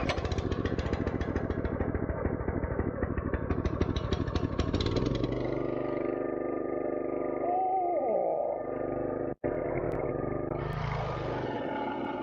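A 30 ton log splitter's small petrol engine starts and runs, a loud chugging clatter for several seconds before settling into a quieter steady idle nearby, with a brief sharp knock near the end.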